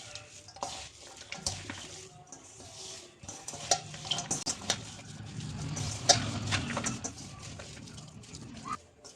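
Chopped onion, green chilli and coriander are stirred together in a bowl, making irregular close clinks and scrapes of a spoon against the dish with short pauses between strokes.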